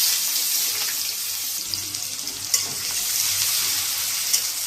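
Chopped onions frying in oil with cumin seeds and garam masala powder, a steady broadband sizzle with faint stirring scrapes, close and continuous, no talking.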